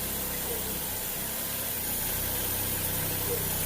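A car engine idles steadily while the transmission is shifted between reverse and drive to check the motor mounts, a continuous close, even rumble without clear breaks and no talking.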